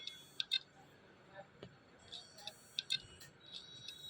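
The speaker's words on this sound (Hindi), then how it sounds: "हार्ड डिस्क में से आवाज़ आ रही टिक टिक टिक।" A damaged hard disk drive with a failed read head ticks during data recovery, giving sharp paired clicks at irregular intervals over a faint, quiet background.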